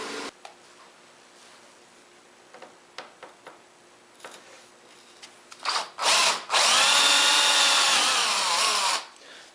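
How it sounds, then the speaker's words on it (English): A power drill bores holes into the underside of a wooden breadboard edge, a short burst near the middle and then a sustained, loud whining run of about three seconds, with faint workshop ticks before it. "I'm drilling a series of holes in the underside of the breadboard edge"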